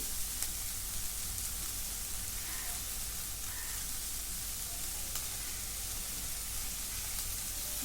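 Fenugreek leaves sauté in a pan with dal preparation, giving a steady, even sizzle that hisses quietly and continuously throughout, with a few faint stirring clicks and no talking.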